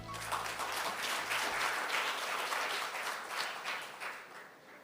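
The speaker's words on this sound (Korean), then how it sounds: "이 자리에 함께해 주신 귀빈 여러분들께 다시 한번 큰 박수 부탁드립니다" Applause for honored guests at an ICT forum's official ceremony, steady and moderately faint, spread across the whole stretch with a brief tone at the start and no clear talking.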